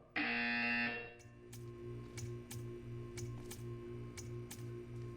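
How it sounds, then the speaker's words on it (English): In the Portal 2 video game, a loud, sustained harsh buzzer blares for about a second, then gives way to a steady hum with regular soft clicking pulses. "You will hear a buzzer."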